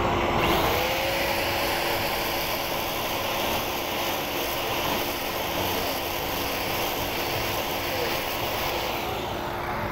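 An Arbortech Allsaw AS170 cuts into masonry bed joints, a loud, steady whirring roar that holds continuously throughout.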